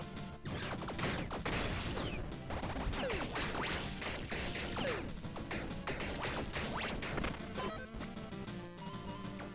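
Bomb explosions in the Tiny Rogues video game, a dense run of loud crashing bursts and smacks layered over busy game music, steady and continuous throughout.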